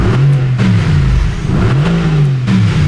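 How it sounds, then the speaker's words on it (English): A Mercedes-AMG GT R's turbocharged engine revs inside a corrugated shed, its loud, close exhaust rumbling and rising and falling in pitch through repeated blips. "that exhaust that you can hear rumbling away in the back"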